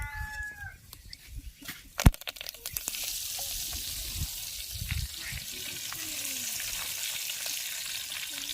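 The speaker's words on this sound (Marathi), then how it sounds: "आता आपलं तेल तापलेलं आहे आपण यात जिरा आणि कढीपत्ता घालून फोडणी" Cumin and curry leaves hit hot oil for tempering: a sharp burst of crackling around the two-second mark, then a steady, even sizzle for the rest of the clip, with a few faint background sounds early on.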